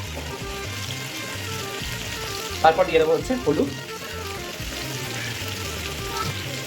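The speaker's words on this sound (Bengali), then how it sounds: "কুমড়ো আর আলুটা ভাজা হচ্ছে," Pumpkin and potato frying in a pan give off a steady, close sizzle throughout, with a voice speaking briefly over it around the middle.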